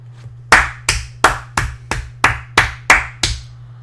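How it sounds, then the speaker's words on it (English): Hand claps from a player during a Crusader Kings II session: about nine sharp, close claps in a steady, even rhythm, each roughly half a second apart, with a low constant hum underneath and no talking. "a clap was fucking necessary right there"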